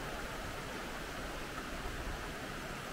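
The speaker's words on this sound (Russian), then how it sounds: "открывается потрясающий вид на водопад Кингча" Steady, dense roar of the Kinchkha waterfall in a canyon near Kutaisi, Georgia, a constant broadband rush of falling water that fills the whole stretch without pauses.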